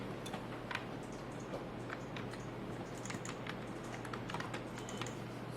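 Keys tapping on a computer keyboard while naming a form, with a steady run of faint, quick clicks over a low background hum, no voices.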